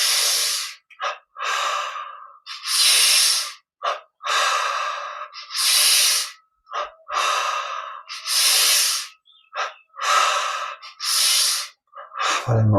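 Strong, audible breaths in and out during a Yogoda energization yoga exercise, about a dozen forceful inhales and exhales in an uneven rhythm with brief pauses, close to the microphone and heard alone without talk.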